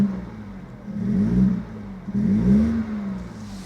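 A car engine revving up twice in quick succession, each rev rising in pitch and then dropping back to idle, close and clear, with no one talking.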